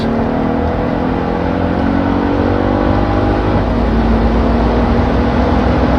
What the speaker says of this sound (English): Oh, that shifting sound.